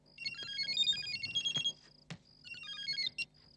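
An electronic phone ringtone plays a bright, fast melodic trill in two bursts separated by a short gap, close by and fairly clear.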